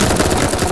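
Gunfire in the VR shooter Crunch Element comes as a dense, loud, continuous burst of rapid close shots lasting under a second, with no speech over it.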